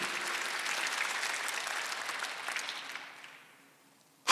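Church congregation applauding during a Sunday worship service, a steady wash of clapping that fades out over about three seconds, followed by a short silence and then a sudden loud burst at the very end.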